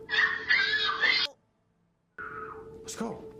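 A ghost character in a horror video game lets out loud, wavering shrieking wails, cut by a stretch of silence before another warbling cry rises and swoops.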